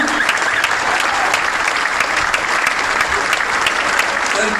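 Loud, sustained applause from a live stand-up comedy audience at a stage show in Dubai, dense clapping filling the room steadily from start to finish with no talk over it.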